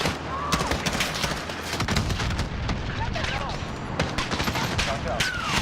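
Dense video game battle gunfire, with rapid rifle and machine gun bursts mixed with heavy booms and explosions, loud and continuous throughout, with people talking over the shooting.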